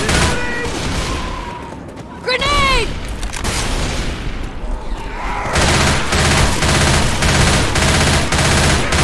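Grenade explosion and sustained automatic gunfire in the zombie shooter Left 4 Dead, a loud continuous barrage with a voice shouting briefly over the early part.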